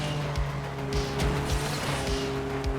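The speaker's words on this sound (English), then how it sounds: "the really disappointing engine sound." Aston Martin Victor engine in the racing game Asphalt 9, a steady synthetic droning engine note with layered tonal hum, punctuated by repeated short thumps and tire-like bursts over a few seconds.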